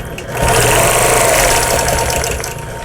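A longarm quilting machine stitches a table runner in a steady, continuous mechanical whir, close and loud, rising after a brief quieter start and holding even throughout.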